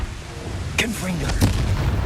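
Confringo fire spell blast in Hogwarts Legacy, two sharp cracks a little over half a second apart rising out of a low game rumble, the second followed by a deeper boom, with some faint voiced sound in between.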